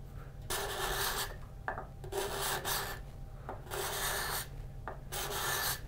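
A sharpened hand tool, likely a plane, cuts curls from oak in repeated rasping strokes, about five or six of them, each a rough shearing swish with short pauses between.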